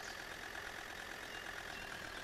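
A Claas tractor engine in Farming Simulator 19 runs at a low, steady drone with a faint hum, quiet and constant throughout.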